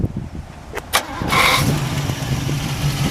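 A 1967 Pontiac Firebird convertible's V8 engine cranks over with a few quick clicks and catches, settling into a low, steady rumble close by.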